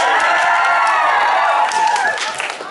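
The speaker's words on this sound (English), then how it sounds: "you didn't have to cheer for that part" An audience at a stand-up comedy show cheers loudly, a dense wash of whoops, shouts and clapping that fills the room from start to finish and tapers slightly near the end.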